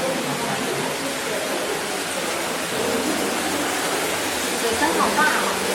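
Flowing water at Okinawa World in Japan, a steady broad rushing wash like a small cascade, continuous and fairly loud, with no clear talk.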